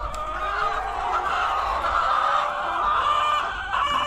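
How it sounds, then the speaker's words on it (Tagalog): Chickens cluck and murmur continuously nearby while being fed, a busy flock chattering over a low background hum. "pakain muna tayo sa aking mga lagang manok"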